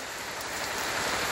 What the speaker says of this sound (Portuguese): Começou hoje a chover novamente aqui.